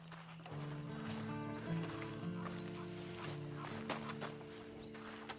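Horse hooves clip-clop at a walking pace in the Red Dead Redemption 2 video game, faint and regular beneath sustained musical tones from the game score.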